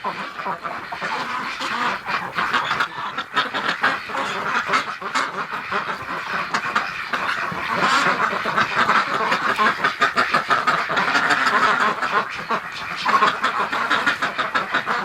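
Muscovy and Rouen ducks in a barn, giving busy overlapping quacks and calls close by, with rustling and scuffling throughout a noisy, cluttered scene.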